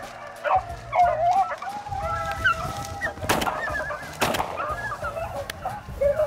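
Beagles chase a swamp rabbit on a hunt, barking and baying in a repeated, ringing chorus from a moderate distance, with brief sharp noises nearby in between.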